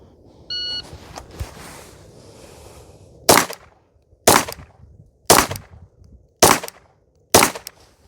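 Five sharp pistol shots ring out one by one at roughly one-second intervals on an outdoor shooting stage, loud and close, preceded by a timer beep and some faint shuffling.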